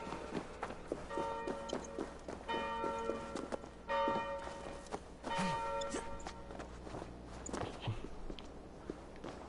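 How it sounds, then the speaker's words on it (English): A bell in a video game rings out in several repeated struck bursts, each with layered sustained tones, over a busy background of footsteps and thuds. "Oh, someone rang the bell."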